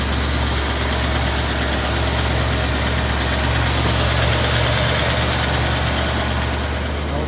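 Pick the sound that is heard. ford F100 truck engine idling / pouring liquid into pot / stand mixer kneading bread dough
ford F100 truck engine idling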